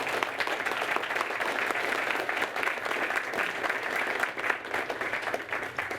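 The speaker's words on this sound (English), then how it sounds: "please give them a round of applause" A steady wash of crowd applause at a city council meeting, many hands clapping continuously at even loudness throughout.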